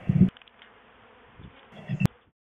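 Honey bees in a package cage buzz in a low, close hum with a couple of louder bursts at the start and near the end, then quiet.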